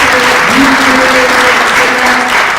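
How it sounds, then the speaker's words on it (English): Church congregation applauding in a steady, dense wash of clapping that runs the whole time, with a preacher's voice faintly audible beneath it. "give yourself a round of applause"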